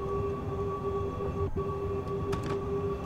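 A freight train of coal or ore wagons rolls past in Train Sim World 3, a steady loud rumble of wagons with a sustained tonal hum and brief clanks near the end, with no talk.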